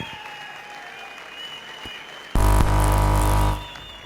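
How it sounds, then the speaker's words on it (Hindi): Loud audience applause erupts at a stage award ceremony after a quiet stretch of low hum and faint music, holding steady for about a second before fading away. "तालियां प्लीज"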